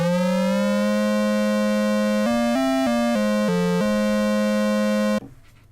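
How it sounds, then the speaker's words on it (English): Korg synthesizer with its second oscillator detuned against the first, sounding sustained buzzy two-note chords that step through a few pitch changes before cutting off, alone and loud. "detune oscillator number 2 relative to oscillator 1 with this pitch knob. So this is useful for making things like little 2-note chords"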